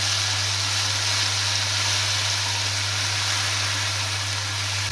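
Ground spice paste with cumin frying in a pan for an ilish fish and kochur mukhi curry: a steady, dense sizzle close up, continuous and unbroken with a low hum underneath.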